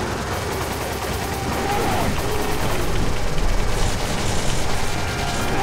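Rapid, sustained gunfire hits a huge enemy in the co-op game Resident Evil 5. It is a loud, dense stream of shots that swells through the middle and stays thick to the end.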